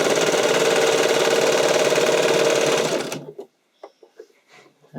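A sewing machine runs continuously for about three seconds, stitching elastic onto a bodysuit with a loud, rapid mechanical hum, then stops, followed by soft fabric handling and brief clicks.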